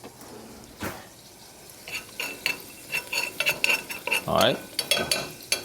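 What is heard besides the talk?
garlic frying and being stirred in a pan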